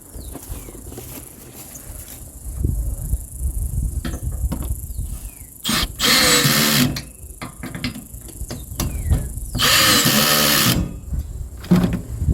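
A power tool tightens 12 mm nuts while a seat cover is installed on a 2023 Kawasaki Mule, giving two loud sustained whirring bursts amid clicks and handling noises, with no talking.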